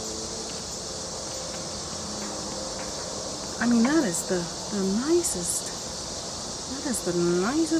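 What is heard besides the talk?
cicadas buzzing in the background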